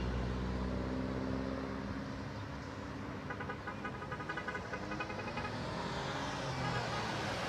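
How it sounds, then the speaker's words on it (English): Road traffic on Thorold Stone Road near the QEW, a continuous rumble of passing cars and heavier vehicles that swells and fades as they go by, fairly loud and with no talking. "Traffic's coming at us from the QEW."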